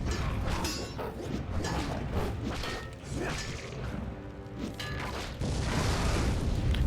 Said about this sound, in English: Oh, look at that big chain explosion.